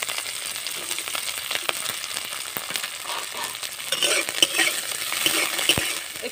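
Eggs fry in ghee in a wok with a steady soft sizzle, while a spatula scrapes and stirs in irregular clicks and taps close by.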